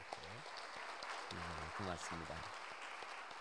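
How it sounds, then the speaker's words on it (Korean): Applause from a church congregation rises briefly in the background while a person speaks a short phrase over it. "박수 한번 좀 쳐주시죠"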